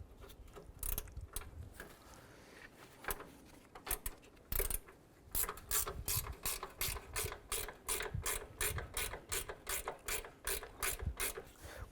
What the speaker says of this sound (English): We want to go ahead and unbolt our hood latch unit here. There's a 10mm bolt here and one on the other side.